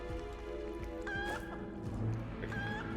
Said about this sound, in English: Chicken! Get back here, Eggathoa.